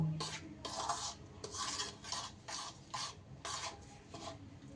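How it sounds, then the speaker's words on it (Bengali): Sugar being stirred into ghee in a pan gives a soft, gritty scraping and rubbing, in repeated strokes at a close, moderate level with no talk. "এইবার সুন্দর করে ঘিয়ের সাথে চিনিটা আমি মিশিয়ে নেব"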